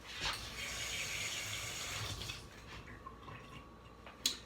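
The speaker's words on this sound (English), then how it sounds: "Let me rinse my hand." Tap water runs steadily as a hand is rinsed beneath it while making homemade fried pickles, a close, quiet splashing stream ending with a small knock.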